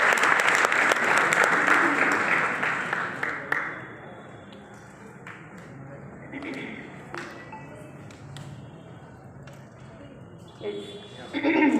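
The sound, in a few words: audience applause in an auditorium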